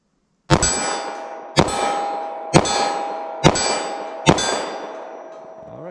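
Five sharp metallic clangs from standard-pressure .45 ACP rounds striking a steel target, evenly spaced about a second apart, each ringing out briefly before the next hit, with no talking.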